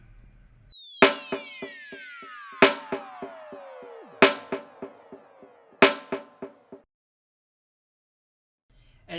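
A reggae-style snare with a dotted sixteenth-note echo strikes four times, each hit trailing a quick run of fading repeats, while laser-like tones sweep downward across the phrase before silence.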